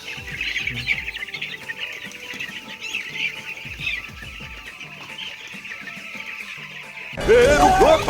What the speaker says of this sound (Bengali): মুরগিগুলো সব সাইড করা হচ্ছে।